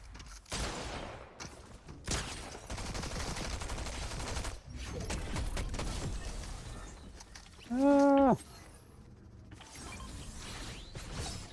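Rapid bursts of gunfire from a gun in a battle royale shooter, sharp shots scattered through busy game noise, with a brief loud tonal whine near the end and no talk.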